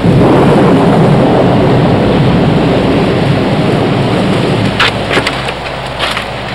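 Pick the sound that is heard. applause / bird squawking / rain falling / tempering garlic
rain falling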